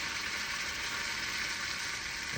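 Hot sterling silver casting flask sizzling steadily as it is quenched in water, a continuous close hiss with no pauses, growing slightly louder at the very end.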